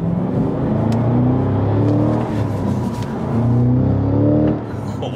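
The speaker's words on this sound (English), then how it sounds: "I just did a full throttle pull." A supercharged V8 in a Cadillac CT5-V Blackwing pulls hard at full throttle, a loud, close engine roar rising in pitch through the gears with brief dips at shifts, nothing spoken over it.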